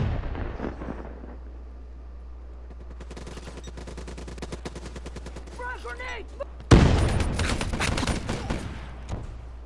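Loud shotgun blasts in Black Ops 3 online team deathmatch on PS3, a heavy boom near the end over scattered game effects and a steady low hum, with a voice speaking faintly earlier.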